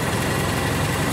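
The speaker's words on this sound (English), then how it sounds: "you can hear the engine running much smoother" A Ford Model T engine idles with the spark advanced, giving an even, continuous low hum and vibration that stays close and steady with no talk over it.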